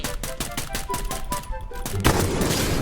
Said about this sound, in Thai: ปล่อยเขายิงกันไปก่อน